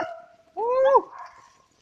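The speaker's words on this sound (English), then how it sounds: "she heard Lily barking" A single drawn-out bay from a hunting beagle rings out after faint background noise, a hound's howling bark heard at moderate distance outdoors.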